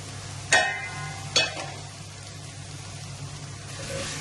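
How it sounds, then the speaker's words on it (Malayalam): Sliced onions frying in a pan for chicken dum biryani, a steady soft sizzle with two sharp scraping clatters of a spoon stirring, then continued quiet crackling. "നമുക്കൊന്ന് ഇളക്കി കൊടുക്കാം."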